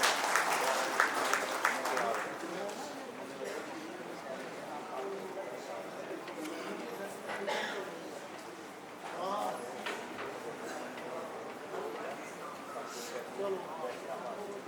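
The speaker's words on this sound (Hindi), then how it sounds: "जोरदार तालियों के साथ" Applause at a public hearing on a waste management facility, a dense clapping burst that starts strong, then thins out and carries on more softly, with voices murmuring underneath.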